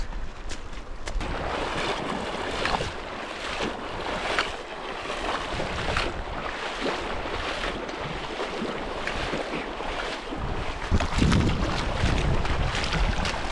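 An icy, fast-flowing mountain stream on the Pangpo La route between Himachal and Ladakh is being crossed on foot: loud, steady rushing water fills the whole stretch, mixed with wind buffeting the microphone, and no one speaks.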